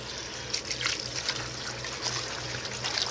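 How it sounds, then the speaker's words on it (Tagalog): Water spinach (kangkong) is rinsed under a running tap, giving a steady trickle with light splashes and dribbling over a low background hum. "At ating hugasan ang ating kangkong."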